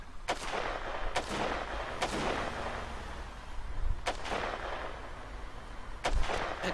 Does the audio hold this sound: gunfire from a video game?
yes